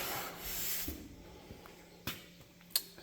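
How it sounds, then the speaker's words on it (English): Scuffing a John Deere 4440 tractor roof panel ahead of painting: soft, continuous rubbing abrasion up close, with a few sharp taps and knocks breaking through the quiet scraping. "Scuffing on the roof."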